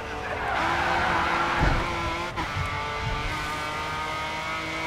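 Racing car in the game Grid 2 sliding through a drift, its engine droning steadily with tyre screech layered in over about five seconds, a brief thump midway, close and loud without pause.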